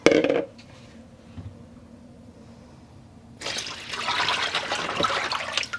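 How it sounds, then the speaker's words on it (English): Four liters of water pour into a container for yarn dyeing, a steady splashing rush that starts partway through after a brief clatter and near-quiet stretch, then continues loud and close to the end. "And I'm adding 4 liters of water."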